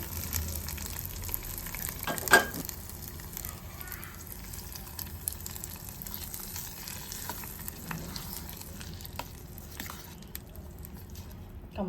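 Tempering of black gram, curry leaves, garlic and dried chillies frying in hot oil, a faint, low, steady sizzle with a single sharp clink early on, heard close and without speech.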